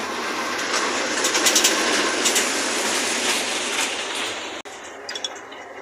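A small toy train in Nahar Park, Patiya, rumbles past close by with a steady rolling roar and rhythmic clicks, then quiets after a sudden drop near the end.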